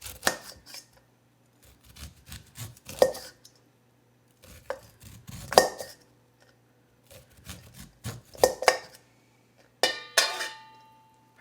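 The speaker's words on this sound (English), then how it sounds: "just go straight down and cut the kernels right off the cob" A knife slices corn kernels off the cob into a bowl for a roasted red pepper and corn salad, making repeated scraping cuts in short bursts with brief pauses between strokes, close and crisp.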